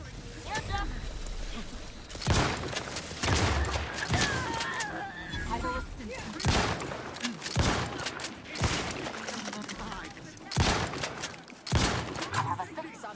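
Gunfire from The Outer Worlds 2, heard as repeated bursts and loud volleys over a busy battle din. In-game voices speak between the shots.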